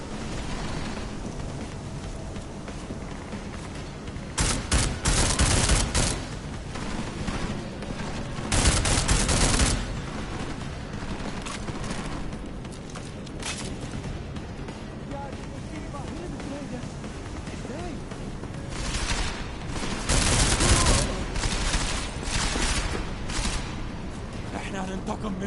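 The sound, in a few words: gunfire with recoil in the video game Deus Ex: Mankind Divided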